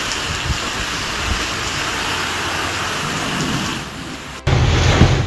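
Heavy monsoon rain and a thunderstorm pound the streets of Bengaluru around Sanjay Nagar and Bhoopasandra, a steady loud roar of downpour ending in a sudden louder burst of thunder or crashing rain near the close.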